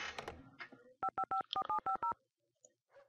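A phone in The Sims video game dials a number: a short, even sequence of about eight touch-tone beeps, clear and fairly quiet, following a brief soft rustle.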